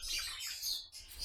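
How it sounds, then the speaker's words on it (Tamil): Birds of a mixed breeding colony, budgies among them, twitter and chirp together in a brief, busy chatter, faint to moderate with no voices. "ஆக்சுவலி நம்ம காலனியில் இருக்கிற ஓவரால் பேர்ட்ஸ் இதுங்க தான்."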